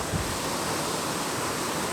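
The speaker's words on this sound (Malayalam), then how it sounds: "ചുറ്റും വെള്ളം" Water all around at an outdoor spot during an off-road cycle ride in Kerala, a steady broad wash of waves or surf mixed with wind buffeting the microphone, constant and fairly faint.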